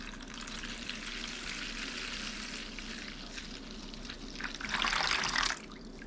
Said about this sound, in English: We'll pour our lemon in.